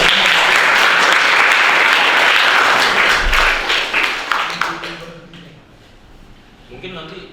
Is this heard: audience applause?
yes